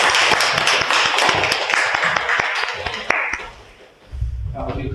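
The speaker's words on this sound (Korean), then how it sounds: "박수하겠습니다." A church congregation claps warmly at the close of a worship service, a dense run of clapping with sharp individual claps that fades out, followed by a brief low rumble as voices and movement resume.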